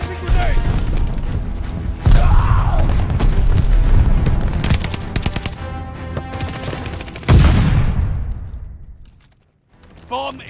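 In a Call of Duty: Vanguard search and destroy match, a grenade blast lands among gunfire: sharp shots and booms, a heavy explosion near the middle and a late loud boom that decays into near silence, with a voice briefly calling out.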